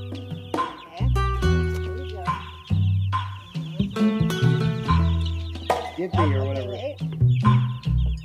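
Chicken clucking in short, repeated calls mixed with other dense sounds, loud and close, with no break in the noise.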